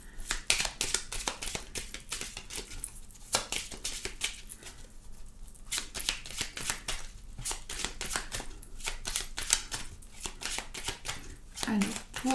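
Lenormand cards being shuffled and laid out for a nine-card reading, with a steady stream of quick riffling and flicking clicks running throughout at close range.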